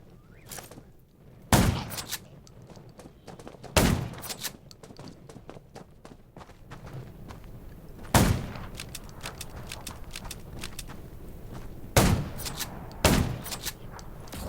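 Gunfire echoes through a junkyard in the video game Garena Undawn. About five sharp, loud shots and short bursts come at irregular intervals over low background rumble and scattered clatter.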